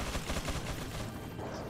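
Gunfire in the video game Resident Evil 4, a rapid dense burst of shots rattling in quick succession, loud and close, tapering off toward the end.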